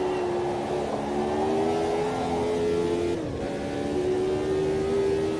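A period Formula 1 car in Automobilista 2 runs at a steady high engine note with a brief dip as it shifts, then climbs back, loud and close throughout with no talking.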